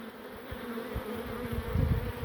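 A dense, steady buzzing of many bees swarming close by, a low droning hum that swells slightly louder toward the end.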